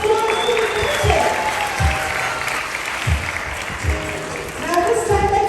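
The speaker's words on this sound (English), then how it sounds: "let's give Bill a big round of applause to the picture" Audience applause at a bird show at Dubai Safari Park, steady clapping from a crowd that swells and fades over several seconds, heard at moderate distance.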